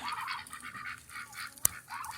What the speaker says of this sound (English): looks like the birds are enjoying the ice melt